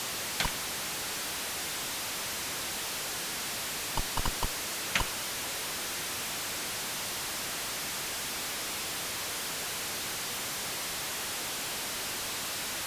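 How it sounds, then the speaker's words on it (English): A steady hiss of white noise static from an Atari 65XE computer fills the whole stretch, broken only by a few faint ticks and clicks. "They don't make white noise like this anymore in the digital age."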